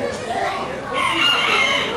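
A chicken at a county fair livestock barn crows and clucks loudly close by, a drawn-out call rising in the second half, with people talking nearby.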